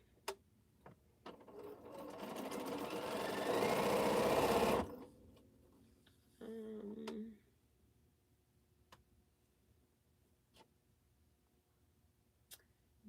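A sewing machine stitching quilt pieces runs in a fairly loud close burst for a few seconds, then a shorter second burst, with scattered soft clicks and handling taps in a quiet room.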